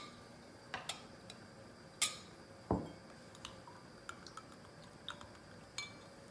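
A spoon stirs powder into a cup of iced tea, making sparse, faint clinks and ticks against the cup. A few sharper knocks stand out over a quiet background.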